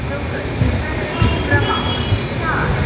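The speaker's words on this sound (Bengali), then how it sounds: "আমাদের ট্রেন এখন প্রবেশ করছে তার প্রথম হল্ট নৈহাটি স্টেশনে।" The Radhikapur Express rumbles into Naihati station from Kolkata, a steady close rolling drone with faint wheel clatter heard from on board, with voices talking over it.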